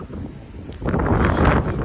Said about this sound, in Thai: ลมเย็นมาก อากาศดีค่ะไม่ร้อนเลยเย็นมาก